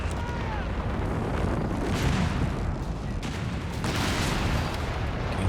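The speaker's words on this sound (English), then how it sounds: "Wait for the artillery to soften it up." Artillery fire in a large 4v4 battle in Company of Heroes 3, with dense, continuous rumbling blasts and booms layered under loud game noise and voices.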